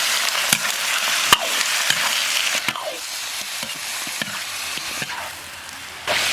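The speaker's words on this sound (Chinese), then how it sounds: "锅里来1大勺猪油。 下入葱姜蒜干辣椒八角白芷，2头炒香以后下鸡肉" Chicken stir-fries in lard with scallion, ginger, garlic, dried chili, star anise and angelica root in a wok, a loud continuous sizzle close up, broken by sharp scraping clicks of a spatula stirring.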